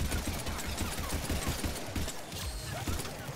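Crossfire in the video game Mass Effect 3 rattles as a steady, rapid stream of muffled shots low in the mix, continuing without a break under the game's background sound.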